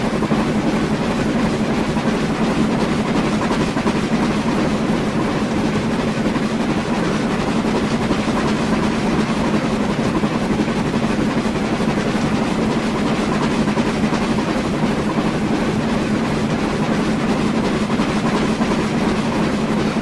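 A BR 2MT steam locomotive on the Western Lines of Scotland in Train Sim World, heard from the cab as a steady, loud running rumble with rail noise and a constant low drone, unbroken for twenty seconds.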